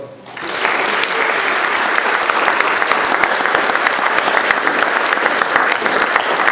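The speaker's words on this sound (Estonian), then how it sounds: "et teeme neile suure aplausi" Big round of applause from a heritage conference audience in Estonia, starting abruptly after a brief moment and continuing as a loud, dense, steady clatter of many hands to the end.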